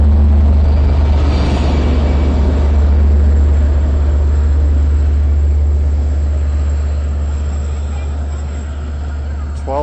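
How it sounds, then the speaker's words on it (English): The rear locomotive of the Long Island Rail Road Cannonball, pulling a 12-car set of Kawasaki C3 bilevel cars at Westhampton station, rumbles loudly and steadily nearby. A low engine drone dominates throughout and fades slightly near the end. "And here's our rear engine with our maintenance crew."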